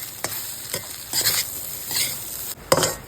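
Egg fried rice is stirred in a sizzling pan while cooking outdoors in the rain, with several distinct scraping strokes of the utensil over a steady fry.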